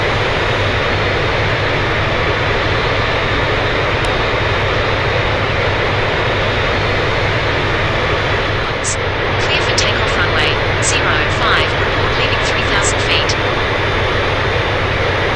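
Airbus A350 jet engines spool up for takeoff in a flight simulator game, a loud, steady, dense roar that fills the whole stretch, with a radio voice faintly over it.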